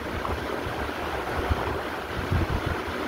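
Steady outdoor wind rushing and buffeting against the microphone, a continuous roar with low gusty thumps and no voices.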